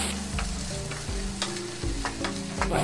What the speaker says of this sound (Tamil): இப்போ நம்ம சேர்த்துக்கிட்ட அந்த காய்கறிகளை எண்ணெயில் ஒரு ரெண்டு மூணு நிமிஷத்துக்கு நல்லா வதக்கிடுவோம்